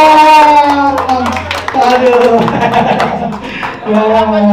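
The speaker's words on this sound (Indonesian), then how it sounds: "Tepuk tangan" Group clapping at an Arema FC football club team-building event, a steady patter of hands running through the clip under loud music and a voice.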